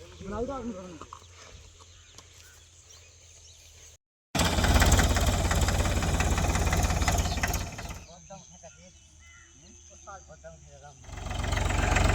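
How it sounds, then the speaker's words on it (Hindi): A tractor engine runs with a loud, rough knocking chug that cuts in after a brief silence and later returns at full strength. Roosters and hens cluck at quieter moments, and people talk over parts of it. "इस ट्रैक्टर में भर के मूंगफली घर ले जाएंगे"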